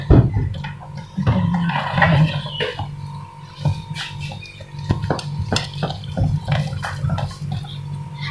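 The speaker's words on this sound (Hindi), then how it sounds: "ब्लेंड 5 से 10 मिनट आपने इसको हाथ से बीट करना है, और हाथ से ही करना है आपने" Dahi bhalla batter is beaten by hand in a bowl, giving wet slapping and stirring sounds with scattered clinks against the bowl, close and irregular in rhythm.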